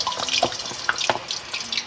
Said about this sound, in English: So carefully put all the chips in there.